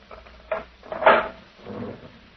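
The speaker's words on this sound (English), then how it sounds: "You may open the cell door for me," A prison cell door opening in an old radio drama, a short series of wooden knocks and scrapes building to a louder rattling clunk, then a softer trailing shuffle, fairly close with no talking.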